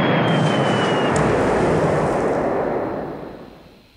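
A torpedo explosion in the naval war game War in the Pacific, a loud, sustained rumbling blast that holds steady for nearly three seconds before fading out, heard alone.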